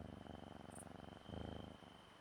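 A cat purrs in the farming game Moonlight Peaks, a steady, soft rhythmic rumble that swells a little louder toward the middle, with quiet game ambience underneath and no talking.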